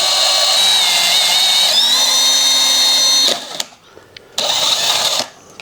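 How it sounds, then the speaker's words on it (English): A power drill whines loudly and steadily while drilling a hole in an RC aircraft part, pitch rising once as it bites, then stops with a few clicks before spinning up again briefly. "here we are drilling the second hole"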